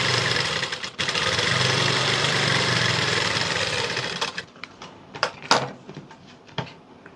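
A sewing machine runs steadily, stitching a one-inch folded bottom hem on a high neck blouse, then stops and gives way to softer clicks and handling noises.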